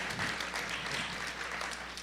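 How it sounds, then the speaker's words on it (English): Applause from the audience at a cookbook talk and cooking demo, a steady wash of many hands clapping close by, filling the short moment with no voices on top. "let's have a round of applause for that"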